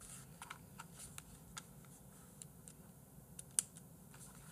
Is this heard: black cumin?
no